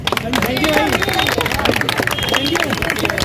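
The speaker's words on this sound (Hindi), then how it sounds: "सबसे पहले आप सब अपने लिए तालियां बजाएं।" Protesting Delhi University students clap for themselves, a brisk crowd clapping under loud overlapping talk and babble, close and continuous throughout.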